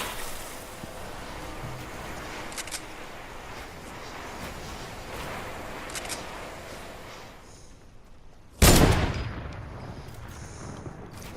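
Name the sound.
gunshots exchanged in a video game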